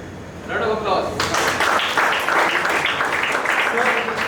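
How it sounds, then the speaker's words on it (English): Audience applause at a batch induction ceremony: broad, steady clapping that swells in after a brief voice and continues unbroken at a fairly even level. "Who said discipline? Round of applause."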